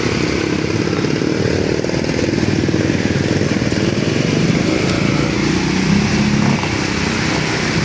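A loud, steady engine drone runs throughout, a motorcycle held at high revs with a rough buzzing texture and no pauses, on a flooded street during heavy rain in Tatalon.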